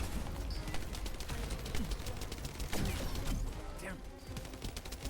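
Turret gunfire in The First Descendant: rapid, dense bursts of shots and crackling impacts sound steadily and loudly for several seconds, with a brief exclaimed voice over the barrage.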